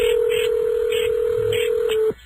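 Telephone line tones on a radio call-in show as a host rings a guest, a steady, loud tone with rhythmic pulses over it, cutting off abruptly near the end.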